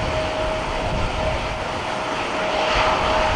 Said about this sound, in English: CRJ coming in.